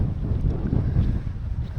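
Steady gusting wind buffets the microphone, a low rumbling roar that rises and falls without pause throughout.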